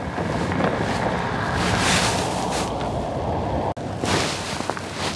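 Water rushing and churning beneath a bridge beside a power plant, a steady broad roar with wind buffeting the microphone, holding constant for several seconds with a brief dropout near the end.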